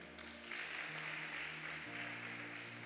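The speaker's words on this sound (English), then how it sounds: "Clap for them." A church congregation claps at a preacher's urging: soft, continuous applause from a large room, faint and distant, with sustained musical tones humming underneath.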